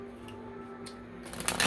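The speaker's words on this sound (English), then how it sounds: "Alright, so I am shuffling." Tarot cards are shuffled by hand in quick, soft riffling bursts that grow busier and louder toward the end, close and with no talking.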